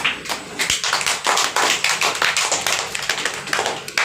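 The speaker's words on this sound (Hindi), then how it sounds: "नेहा के नाम से ताली बजाओ।" A group of students in a tuition class claps for a classmate, producing a steady run of sharp, fairly close handclaps with no talking.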